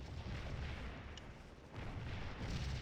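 Artillery fire in a Civil War video game, faint distant rumbling booms rolling continuously at low volume, with no talking.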